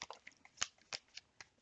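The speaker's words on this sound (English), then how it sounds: "I will shuffle this 2 more times." Tarot cards being shuffled by hand, heard as a quiet run of soft, papery riffles and flicks, with a few sharper snaps spaced irregularly over a second and a half.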